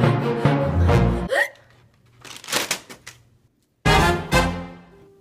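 A person hiccups in a comedy sketch, producing a few sharp, abrupt bursts separated by short quiet gaps, loud and close.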